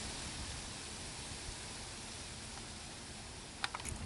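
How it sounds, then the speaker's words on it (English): A small unnamed stream flows on a winter hiking trail. It makes a steady, broad rushing hiss throughout, with a few faint ticks near the end. "Here's an unnamed tributary."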